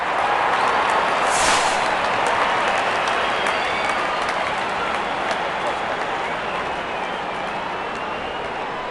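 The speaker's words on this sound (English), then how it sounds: "The crowd is enjoying every bit of this action." Crowd at a cricket stadium during an Afghanistan versus Bangladesh one-day international, sustained broad applause and cheering that swells briefly early on, then holds as a steady roar while a commentator speaks over it.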